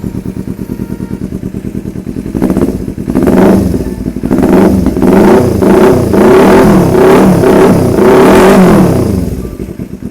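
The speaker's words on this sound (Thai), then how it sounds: "มาฟังเสียงท่อกันเลย สตาร์ทติดทีเดียวรู้เรื่องนะครับผม" A 2018 Kawasaki Z300 ABS motorcycle with 37,000 km and aftermarket parts idles with a steady, close-up exhaust burble, then revs repeatedly in loud, rising bursts before settling back to idle.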